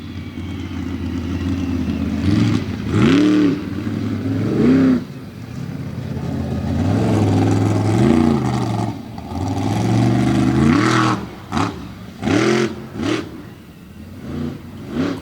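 The General Tire Ram monster truck, driven by Curt Kramer at a freestyle show in Bloomsburg, Pennsylvania, revs its engine repeatedly, the pitch surging up and dropping back in loud, close bursts.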